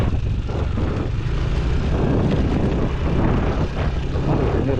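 Vehicle engine driven hard at full throttle on a badly damaged road between Sukamakmur and Citeureup, a loud, steady roar with rumbling buffeting noise throughout, no pauses and no talk.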